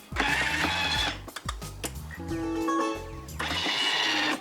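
A Thermomix chopping carrots at speed level 5 for three seconds, a loud whirring, rattling motor with blades thrashing the pieces, surging and shifting pitch in short bursts.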